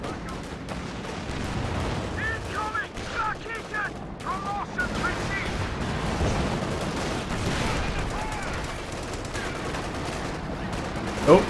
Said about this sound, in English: He's trying to shoot through the hedge, and Bud's trying to return fire.